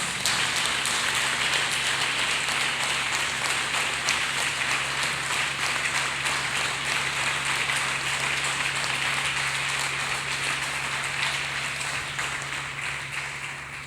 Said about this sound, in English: Let's clap hands for Jesus Christ.